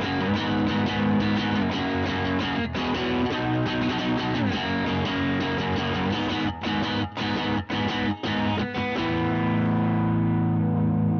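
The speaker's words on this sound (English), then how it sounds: "Jazz Tele has Jazzmaster's pure vintage 65 pickups, and every position of pickups feature sounds different" A Fender Jazz Tele electric guitar with vintage 65 Jazzmaster pickups rings out in dense, driven chords with effects and a touch of echo, strummed continuously with brief choppy stops near the end.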